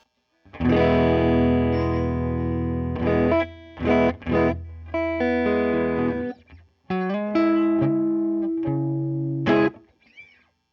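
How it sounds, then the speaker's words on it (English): A distorted electric guitar played through a hand-wired Tweed Deluxe 5E3 tube amplifier kit, sustained chords and short riffs ringing out with pauses between phrases, close and clear. "a Tweed Deluxe DIY kit that I built last summer"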